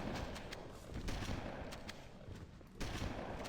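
Shotgun blasts in the first-person shooter Halo during co-op play, a few booming shots spread across a dense, continuous wash of game battle noise.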